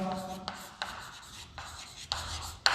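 Chalk or marker writing on a lecture board, with short scratchy strokes separated by brief pauses and a few sharp taps, fairly faint and close.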